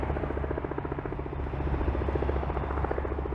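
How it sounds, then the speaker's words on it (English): A helicopter approaches over the Toronto waterfront, its rotor giving a steady, rapid thumping pulse that stays moderately distant and constant throughout, with no talking. "There's a helicopter coming into the islands."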